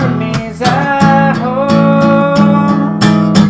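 The bridge of a song is played on guitar as a loud, close run of ringing strummed chords, with clear attacks every half second or so.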